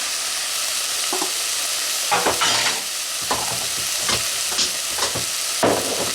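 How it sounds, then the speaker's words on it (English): A spoon scrapes and stirs meatball sauce in a pan over a continuous sizzle, with several distinct, close stirring strokes spaced a second or so apart. "we're gonna go ahead and give this a little stir"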